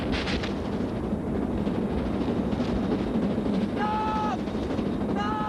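Loud, rumbling train noise with a steady roar and short whistle-like tones near the end, no talking.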